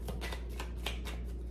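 Tarot cards shuffled by hand in a steady run of soft riffling bursts with no talk, close and continuous over a low background hum.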